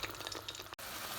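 Two spoonfuls of garlic-ginger paste fry with onion and tomato paste in a pan for a kofta potato curry, giving a soft, steady sizzling hiss that cuts out briefly near the end.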